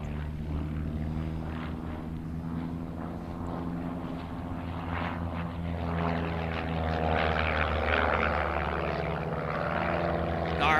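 Airshow aircraft making a head-to-head pass give off a continuous droning engine hum with layered tones, steady and moderately distant, rising slightly toward the end, with no talk.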